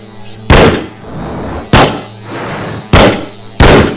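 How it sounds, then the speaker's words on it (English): Four sharp, loud bangs like firecrackers going off at uneven intervals, each a sudden crack that fades over a short rumbling tail. "he began to buzz and whiz and bang like a firecracker"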